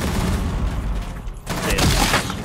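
Gunfire in Rainbow Six Siege, a dense run of shots and rumbling impacts heard close and loud, dipping briefly in the middle before resuming as a thick burst, with game noise blended underneath.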